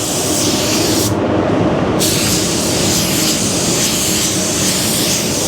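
A spray gun lays down solvent-based red automotive base coat during a full paint job, giving a loud, steady hiss that runs unbroken from start to finish with no talking over it.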